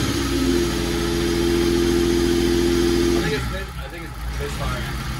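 Vehicle engine idling with a misfire, a steady low rumble with a rhythmic pulsing that stays loud for about three seconds, then changes and drops slightly in level, with talk over it.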